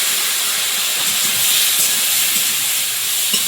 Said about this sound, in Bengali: এদিকে কড়াই বসিয়ে তেল দিয়েছি আর তেলের মধ্যে একটু গোটা জিরে দেব